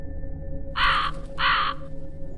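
A crow gives two loud, harsh caws in quick succession, set against a quiet, steady background hum, used as an eerie effect in a horror story.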